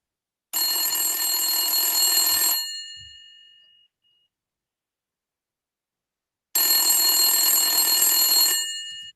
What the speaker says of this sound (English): Then you receive another phone call after a few hours.